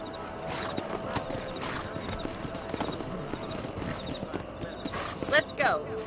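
Horse hooves clip-clop steadily across the ground while riding in the video game Red Dead Redemption, set among layered game sound, with a horse whinny near the end and people talking over it.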